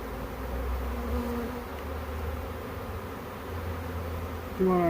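A honey bee swarm drones in a steady, dense buzz close by, with the hum holding even throughout and a louder swell of bees right at the end.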